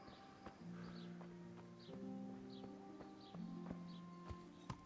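A horse in a medieval role-playing video game walks with quiet, evenly spaced hoof clops. A low droning game soundtrack with shifting held notes plays underneath, and faint birdsong comes and goes. No one speaks.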